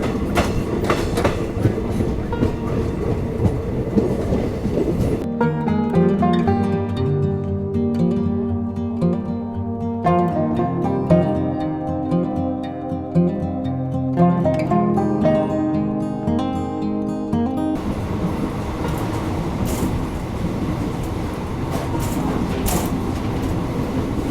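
Passenger train on the Banihal to Srinagar rail route in cold weather, heard from inside a worn carriage: steady rumbling wheels with rhythmic clickety-clack over the rails, a tonal whine in the middle, and continuous running noise throughout.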